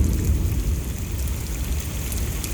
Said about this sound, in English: Are you sure that's thunder?